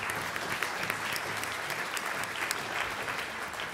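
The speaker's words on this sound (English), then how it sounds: "a big round of applause for our school's panel" Audience applause for a school panel, steady dense clapping from a crowd, moderately distant and continuous for a few seconds with no voices over it.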